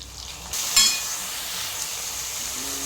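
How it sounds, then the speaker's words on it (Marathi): Green chillies sauté in hot oil with onions and curry leaves, a loud, steady sizzle that jumps up as they go in and a brief stirring clatter, then keeps hissing evenly. "मिरची आता 2 मिनिट परतून घेऊ।"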